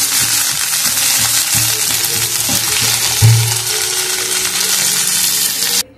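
Fenugreek greens go into a hot frying pan, giving a loud, continuous sizzle and crackle throughout, with a brief thump and clatter midway as the greens are stirred.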